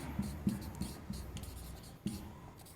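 Chalk taps and scrapes on a board during a maths lesson, a series of short, fairly faint strokes and knocks spaced unevenly, with no talking.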